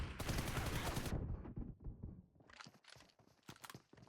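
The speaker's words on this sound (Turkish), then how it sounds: "Yerdekini vuruyorum. No mercy!" Rapid bursts of gunfire in the video game PUBG Mobile, a dense volley for about a second, then a pause and several more sharp shots in quick succession.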